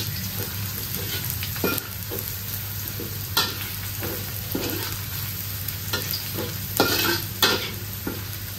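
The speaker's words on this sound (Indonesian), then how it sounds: "Tumis sampai dia layu ya, bawang-bawang ni." Sliced onions are stir-fried in a pan until wilted, a steady sizzle broken by repeated scraping strokes of a spatula, close and continuous over a low background hum.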